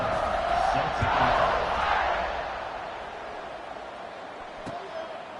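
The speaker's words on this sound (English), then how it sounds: "it just feels like they're really feeding off of this home crowd and their energy" A home crowd cheers in the College Football 26 video game, a broad wash of noise that is loudest early on and then fades to a lower murmur.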